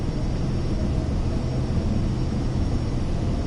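A Vision Jet G2's engine roars steadily during the takeoff roll in Microsoft Flight Simulator 2024, a loud, continuous broadband rush with no voices over it.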